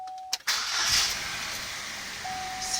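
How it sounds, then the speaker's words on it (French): A car engine cranks and fires up after a P0171 lean-fuel fault repair: a short starter whir, a quick catch, then a loud rev that settles into a steady idle, with a dashboard chime at the start and again near the end. "On va mettre le véhicule en route."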